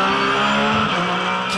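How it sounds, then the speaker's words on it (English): A flat-six boxer engine in a GT race car at Sandown during the Australian GT Championship roars loud and close, holding a steady high-pitched howl with a slight pitch shift as it passes. "Can never get sick of the sound of that flat six-boxer engine."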